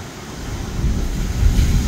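Strong wind buffeting outdoors over open sea aboard a vintage trawler, a rumbling low roar that swells and gusts, loud and close.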